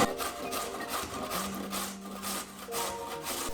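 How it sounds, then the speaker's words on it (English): Carrot grated for a healthy chicken salad, a steady run of dry rasping scrapes against the grater, moderately close and with no talking. "I'm also gonna grate in one carrot"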